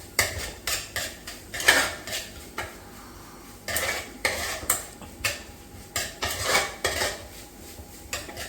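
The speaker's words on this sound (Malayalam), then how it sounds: "പച്ചമണം പോകുന്നത് വരെ വഴറ്റുക." Chicken masala for chilli chicken being sautéed in a pan, heard as a close series of clattering metal spoon scrapes and knocks against the pan with faint sizzling between strokes, no voices.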